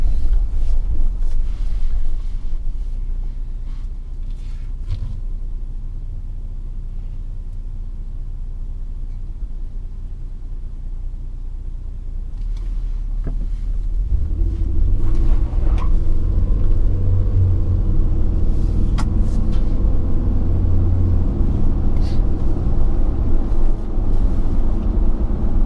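A 1999 Toyota Hilux Surf SSR-X with a 3.4-litre V6 drives under load in four-wheel drive, its deep continuous engine rumble steady at first, then swelling louder and fuller midway as the throttle opens.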